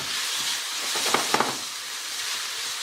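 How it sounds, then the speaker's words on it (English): Peppers, green onions and garlic stir fry in a hot pan, giving a continuous hiss and sizzle with a few brief clicks of stirring near the middle, close and alone. "I'm going to quickly keep mixing these up and stir frying these for about 4 minutes now"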